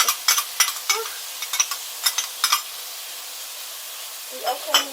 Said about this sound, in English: We're going to saute everything